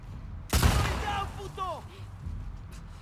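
A single sharp gunshot from The Last of Us Part 2 cracks out close and loud, followed by fainter reverberant tail and ambient game sounds, with a talking voice briefly present.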